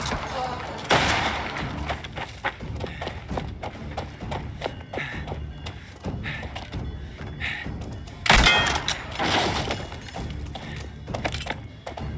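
Gunfire during a shootout in Mafia: The Old Country, set in 1907 Sicily, with scattered sharp shots and two louder blasts amid hoof-like clatter and thumps, with voices shouting between them.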